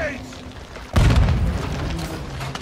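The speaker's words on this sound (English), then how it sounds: "Incoming! Take cover! They're launching grenades!" A grenade goes off in the video game Call of Duty: Modern Warfare II as a sudden loud, deep boom that rumbles and fades. Game voices shout around it.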